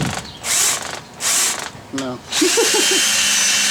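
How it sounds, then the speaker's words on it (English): A cordless drill whirs in three short high-pitched bursts, then runs longer, with a voice speaking briefly between the bursts, while working on a 1985 rear axle. "See if this drill do high speed."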